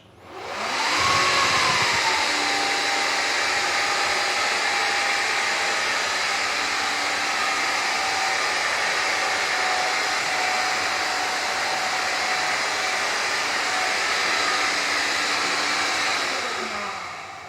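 A Vax Onepwr Glide cordless hard floor cleaner runs in eco mode, spinning up from a short start into a steady whirring motor drone with a motor whine on top, holding level for about fifteen seconds before easing off slightly.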